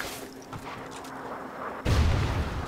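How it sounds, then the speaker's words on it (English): A friendly rocket strike lands in a Call of Duty match as a sudden heavy boom that hits near the end, loud and rumbling, after a quieter stretch of battle noise. "Friendly Trinity rocket in."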